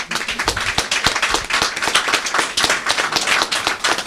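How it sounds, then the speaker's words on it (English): Audience members clap for an engineer at a Mangel Klicks Ghana office event, a dense, steady round of hand claps close and loud throughout, with no talking over it. "Let's stand and clap for you."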